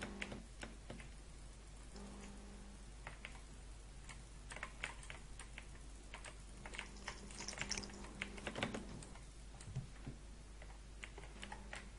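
Steady quick clatter of typing on a computer keyboard for a chat message during a Minecraft KitPvP game, close and quiet, with irregular bursts of keystrokes and no talk.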